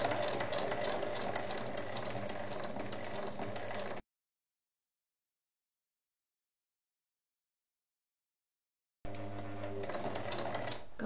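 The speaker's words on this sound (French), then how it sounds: "je pique sur 1 cm et ensuite il faut tourner le tissu" Sewing machine stitching the pocket of a fabric apron: a steady, close mechanical whir that runs for about four seconds, stops dead through a long silence, then starts again near the end.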